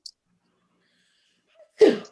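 One sharp, sudden sneeze bursts out near the end after near silence, with a faint breathy catch just before it.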